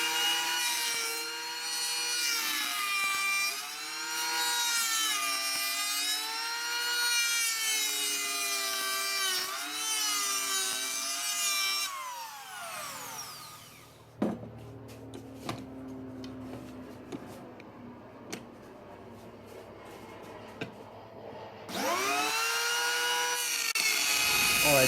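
A hand plane works a vine maple bow stave, heard as faint, irregular scraping and light tapping strokes through the middle stretch, set between longer, louder passages of steady wavering tonal sound.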